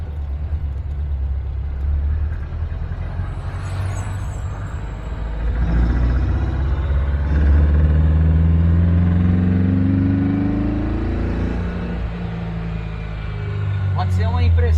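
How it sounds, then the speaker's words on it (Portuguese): A 1957 Mercedes W100 car engine pulled hard in second gear, a loud, steady droning roar with rising pitch as revs climb, heard from inside the cabin with someone talking over it. "Vou afundar o pé agora, que é a parte que dá mais... Tô em segunda, vou passar em segunda."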